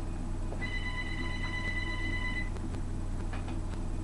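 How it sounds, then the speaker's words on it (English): A telephone rings once with a sustained electronic tone lasting about two seconds, over a steady low background hum, followed by faint ticks. "when the phone rings when you're doing a video."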